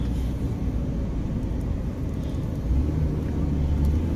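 A pickup truck's low road rumble and tyre noise fill the cab as it drives along, a steady close drone with slight swells and no talk.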